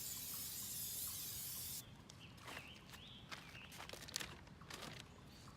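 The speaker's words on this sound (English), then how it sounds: "I'm going to spray this here." A can of Aleene's Tacky Spray adhesive hisses in a steady close burst for about two seconds, then stops, followed by quiet handling sounds and soft taps of crafting materials.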